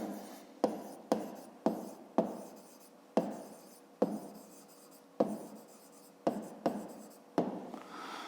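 Pen strokes on paper during a fifth-grade maths exercise, heard as a series of about a dozen quick, distinct scratching strokes with short pauses between them, close and fairly quiet, with no talk.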